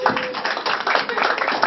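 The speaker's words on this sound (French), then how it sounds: "Vos acclamations, s'il vous plaît." A ceremony audience claps and cheers, a dense, fairly loud burst of applause sustained across the whole short stretch.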